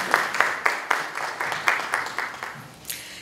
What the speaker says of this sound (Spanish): Un aplauso también para Gladys.